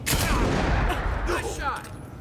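A gunshot in the video game Avowed lands as a loud close crack, then a roiling crash of combat noise. Voices are heard during the fight.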